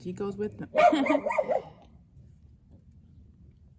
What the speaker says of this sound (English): Sorry about the barking, but that's just how it is around here.